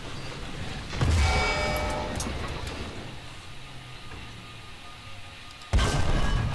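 Artillery cannon fire in the tank video game Ground Forces: a loud booming shot lands about a second in, a rumbling decay trails off, and a second sharp blast hits near the end, with no talking.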